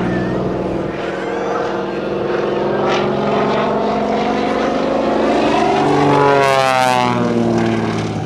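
A propeller aerobatic airplane roars past close and loud at an air show, its engine pitch sweeping and shifting as it climbs and maneuvers overhead.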